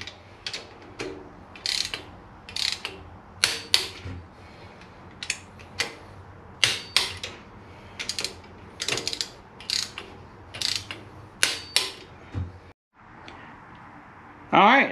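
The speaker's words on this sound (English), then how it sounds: "Okay, so now I've got the head studs in with the nuts on, I can start torquing." A torque wrench tightening head stud nuts on a Boss 429 stroker engine built from a Windsor, with repeated close ratchet clicks in short bursts separated by pauses.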